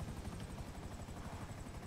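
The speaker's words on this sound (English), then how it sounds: "don't blow up my helicopter." A helicopter in Grand Theft Auto V gameplay, its rotor thumping in a rapid steady rhythm beneath a continuous engine whine, close and sustained throughout.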